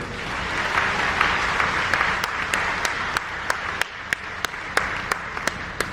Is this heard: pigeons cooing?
no